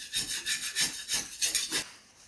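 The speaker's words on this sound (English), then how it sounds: "I'm also going to scrape off this old caulk on the ground." A putty knife scrapes old caulk off a bathroom floor during a toilet replacement, giving about six rhythmic rasping strokes, close and fairly loud, that fade out near the end.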